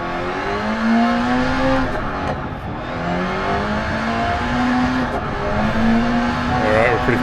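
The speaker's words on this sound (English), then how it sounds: "redlining the engine the whole way." A rally race car engine is held near redline in the DiRT Rally video game during the Pikes Peak hill climb, a loud, continuous high-revving drone that wavers with brief dips and shifts, with faint tyre noise underneath.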